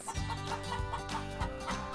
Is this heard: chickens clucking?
yes